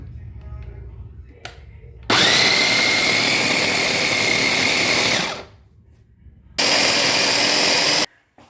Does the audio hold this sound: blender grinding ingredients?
yes